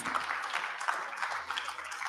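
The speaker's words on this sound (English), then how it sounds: "Round of applause for Isaac, please." An indoor audience at a talk applauds a speaker coming up to the stage, a steady, moderately distant patter of many hands that holds throughout.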